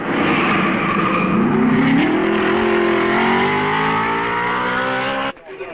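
Formula 1 race cars from 1955 at the Belgian Grand Prix at Spa, around the Raidillon climb, roar loudly and continuously, engine pitch rising as they accelerate, then cutting off abruptly.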